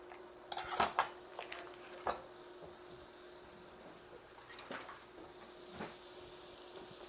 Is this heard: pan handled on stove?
yes